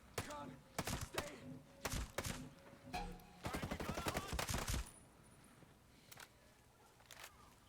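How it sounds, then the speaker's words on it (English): Gunfire in a video game comes as several bursts of rapid shots, loud and close, with a long fast volley in the middle, then quieter single pops under faint background. "That was some pretty sweet ass shooting."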